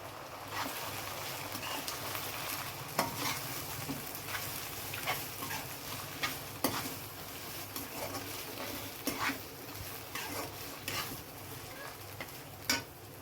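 Boiled mutton keema stirred into a pan with ginger paste, frying with a soft steady sizzle while a utensil scrapes and knocks against the pan at irregular intervals, close and fairly quiet.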